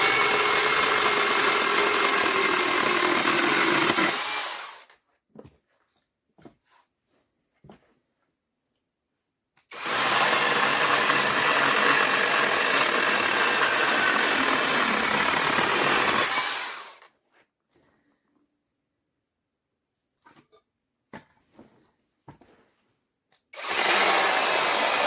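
A BITOON cordless mini chainsaw with an 8-inch bar and auto-oiler, running on a Dewalt 20V MAX battery, cuts hardwood in three loud, steady whining bursts separated by near-silent pauses with faint clatter.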